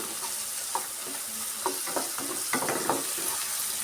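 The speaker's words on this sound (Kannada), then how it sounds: "ಶುಂಠಿ ಬೆಳ್ಳುಳ್ಳಿ ಪೇಸ್ಟ್ ಸ್ವಲ್ಪ ಹಸಿ ವಾಸನೆ ಹೋಗೋವರೆಗೂ ನಾವು ಫ್ರೈ ಮಾಡ್ಕೊಬೇಕು" Ginger garlic paste with two dried red chillies sizzles in a hot pan for egg rice, with a steady crackle and several close scraping stirs of a spatula.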